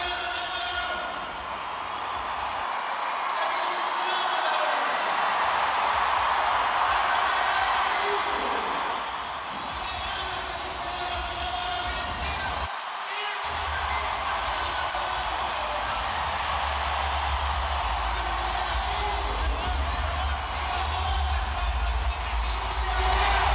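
A Brazilian home crowd roars and cheers continuously at an SLS Championship Tour street skateboarding contest, a dense, loud wash of voices with a brief dip partway through, and commentary talk is heard over it.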